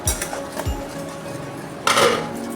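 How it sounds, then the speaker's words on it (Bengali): Jaggery syrup being stirred in a pan gives a few metallic clinks and scrapes of a utensil against the pan, with a brighter, louder scraping stir toward the end and no talk. "এইভাবে আমি অনবরত নাড়তে থাকি"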